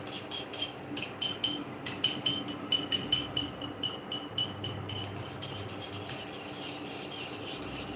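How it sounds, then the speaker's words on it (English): Waakye rice and peas stirred in a pot over a fire, a steady run of soft scraping strokes against the pot with light clinks, close and alone, over a faint background hiss. "So I'm going to stir it."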